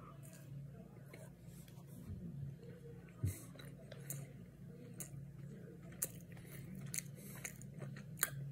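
Someone chews a Reese's peanut butter cup close to the microphone, soft wet bites and crunchy mastication with a few sharper bite sounds, over a low steady background hum and some quiet murmuring.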